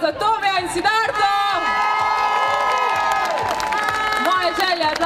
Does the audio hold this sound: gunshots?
no